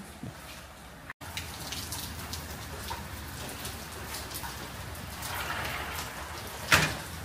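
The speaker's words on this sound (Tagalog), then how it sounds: "Napakaulan." Heavy rain falls steadily on a surface in a rural Australian setting, a dense near patter with occasional louder drops and a brief dropout early on.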